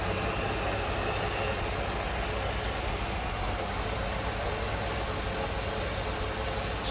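A 1995 Ford Mustang GT convertible with a 5.0 V8 idles smoothly, a faint, even, continuous rumble with no changes in speed throughout.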